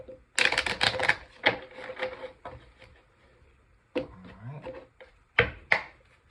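Tarot cards riffled and cut by hand, crisp papery bursts of shuffling followed by sharp taps and slaps of the deck, close and fairly loud in an otherwise quiet room.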